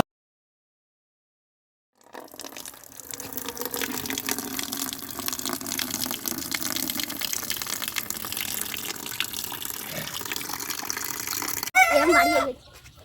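Chickens at a small home poultry farm, clucking and calling over a running-water hiss after two seconds of silence, with a louder burst of fowl sounds near the end.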